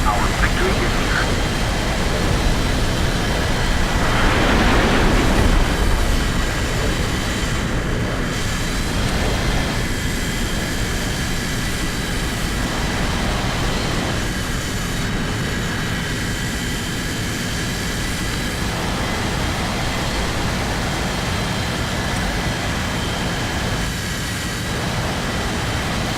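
A Wehr Funder jet in a video game, its engine a loud, continuous roar that holds steady throughout with slight swells and dips in intensity.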